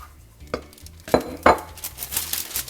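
Fried plantain slices are pressed flat under a dish between sheets of wax paper, giving a few sharp close knocks and clinks spaced apart, with soft kitchen handling noise in between and no talking.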